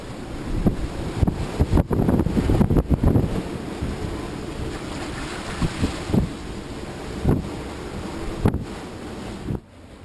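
Strong wind of about 25 knots buffets and roars nearby on a sailboat at sea on the Tasman Sea, with bursts of gusting and thumping, while water rushes and splashes underneath.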